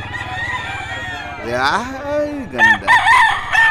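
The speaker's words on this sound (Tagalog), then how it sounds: "Manok para sa inyo itong mga quality na manok" A quality rooster crows loudly and close, one long rising and falling call followed by shorter clucking notes, with a person speaking briefly around it.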